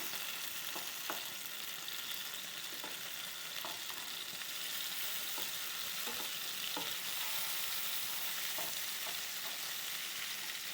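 Ghee sardines with black pepper frying in a pan give a steady, bright sizzle, broken by scattered sharp pops and crackles throughout, with no talking.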